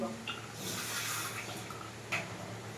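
Water splashes and pours from a vessel into gram flour (besan) batter for a drumstick-potato-bori curry, a close, brief gush with faint sloshing.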